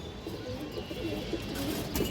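Pigeons kept as fancy flying breeds coo softly and steadily against a busy background murmur, with occasional brief chirps rising above it.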